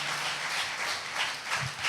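A church congregation claps hands together, a brief, fairly loud wash of many hands clapping with a slight pulsing rhythm.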